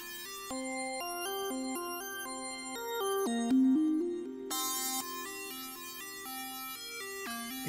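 Modular VCV Rack sequencer stepping irregularly through bell-like synth notes under a Bernoulli gate, uneven note timing and shifting pitches, played alone without talk.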